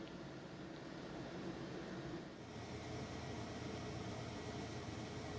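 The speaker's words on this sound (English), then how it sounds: "Sorry I left the air conditioner on" An air conditioner runs in a guitar amplifier repair workshop, a steady broadband whoosh and hum that stays constant and fairly faint throughout, with no talk.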